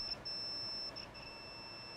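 Multimeter continuity beep sounding while probing the ground connection inside a gutted TrippLite ISOBAR power strip, a steady high electronic tone held for about a second, then a few fainter short repeats, close and alone.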